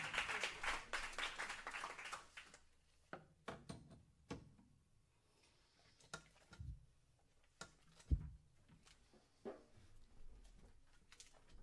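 An audience at a faculty jazz performance claps scattered and unevenly, a louder cluster at first that then thins to sparse individual claps, with a few thumps and bumps.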